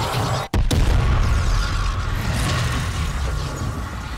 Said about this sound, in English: Quite an explosion